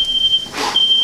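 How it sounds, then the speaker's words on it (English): Thin high-pitched electronic beep of a home smoke alarm in a kitchen, sounding steadily near the start and end, interrupted briefly by a burst of broadband noise in the middle. "Shut up, alarm."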